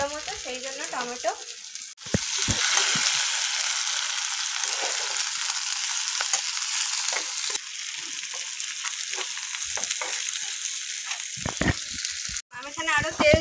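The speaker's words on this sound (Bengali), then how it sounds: "পেঁয়াজটা ব্রাউন হওয়া অবধি ভেজে নিতে হবে ভালো করে।" Onions sizzle and fry in hot oil in a pan while cooking a spicy crab kosha curry, a steady loud hiss punctuated by stirring clatters, with brief speech at the start and end.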